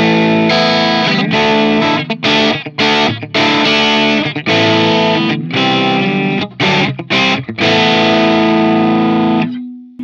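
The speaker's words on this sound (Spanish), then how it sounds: "esto te agrega más distorsión sin agregar ruidos. Y ya pasa a ser un pedal de overdrive." An electric guitar runs through the KSR Amps Eros boost and EQ pedal in its dirt mode, giving thick overdrive distortion. Chords ring and are cut off in choppy bursts, loud and close, ending on a sustained note.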